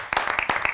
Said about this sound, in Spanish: Hay un aplauso en la mesa,